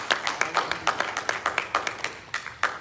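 A church congregation claps together in praise during a worship service, a steady run of sharp overlapping claps at moderate volume with a few louder accents, no talking.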